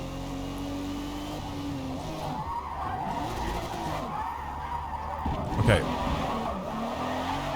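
Car drifting in the racing video game Forza Motorsport, with long wavering tire squeals over the engine through a big corner and a short voice partway through.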